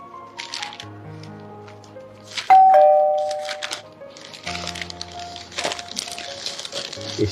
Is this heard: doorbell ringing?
yes